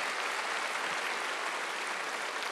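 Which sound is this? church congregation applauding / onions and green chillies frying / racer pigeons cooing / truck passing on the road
church congregation applauding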